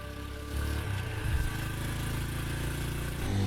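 A motorcycle engine runs as the bike comes to a stop, a steady mid-pitched hum that thickens slightly partway through and then settles into an even idle, with no talking.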